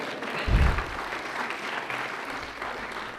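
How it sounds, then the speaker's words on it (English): Audience applause at a city's State of the City address, a dense steady patter of clapping that holds through the whole stretch, fairly faint and distant, with a brief low thump near the start. "you can clap"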